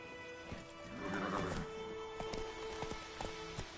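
Horse neighing in a video game, a whinny rising and falling near mid-clip, followed by scattered clip-clop hoof steps against a steady game ambience.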